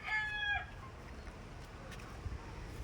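A rooster crows briefly at the start, followed by quiet ambient clucking and faint rustling from nearby fowl.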